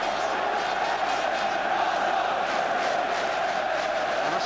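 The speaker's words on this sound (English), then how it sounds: "the goal has lifted the crowd" Football crowd at an Arsenal v Tottenham Hotspur match in the 1987/88 season, roaring after an Arsenal chance is turned away, a broad, steady wall of massed voices and cheering filling the stadium throughout without letup.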